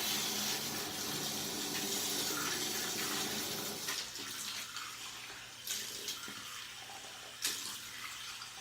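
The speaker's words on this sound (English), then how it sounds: "my next step is to add water to my measuring cup." Tap water runs steadily into a measuring cup, a continuous broadband pour and splash that stays even throughout. It eases slightly midway and a few faint clinks sound over it.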